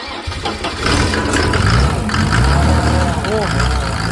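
A Mercedes OM603 diesel engine driving a motor pump cranks briefly and catches, then settles into a steady, loud, close diesel clatter at idle, with someone speaking over it.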